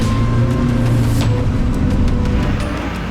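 A Nissan Navara on a steep muddy hill climb, its engine droning loud and close with a rushing roar as the wheels spin in the mud, steady throughout with no talking.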